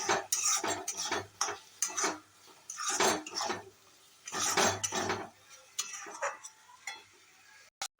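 Ground fennel and spices stirred into curd chicken in a pan: close, irregular bursts of spoon scraping and clinking against the pan, with short pauses between strokes and a couple of sharp clicks at the end.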